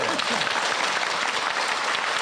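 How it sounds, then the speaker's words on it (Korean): A studio audience on a Korean talk show breaks into loud, dense applause, a steady wash of clapping lasting the whole short stretch. "한번 박수 한번 주시죠."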